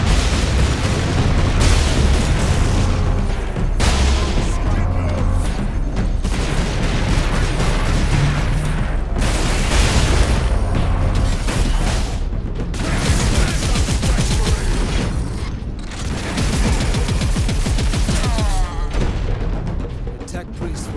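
Ork rocket launchers firing from high ground in Warhammer 40K: Space Marine, a loud relentless barrage of booming explosions and crackling blasts over about twenty seconds, with voices speaking beneath the din.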